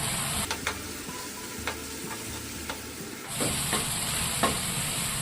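Curry leaves and green chilies sautéing in hot oil for a sea bass fish kulambu, a continuous close sizzle broken by sharp spoon-against-pan clicks as they are stirred, with the frying growing louder near the end.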